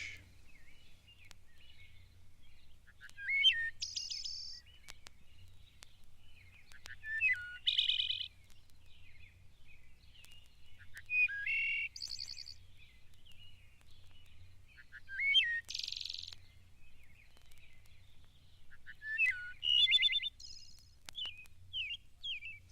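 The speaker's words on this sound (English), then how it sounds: "Wood thrush." A wood thrush sings a series of fluting phrases ending in bright, ringing trills, repeated every few seconds with soft lead-in notes, clear and fairly quiet over a faint low hum.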